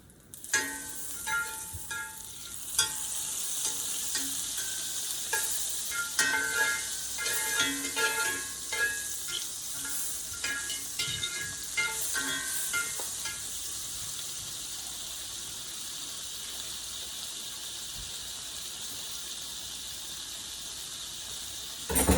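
Half a stick of butter melts into oil in a hot skillet before a pot roast goes in, producing a busy, bright sizzle with crackling pops that is strongest early and settles into a steady hiss, close and without speech.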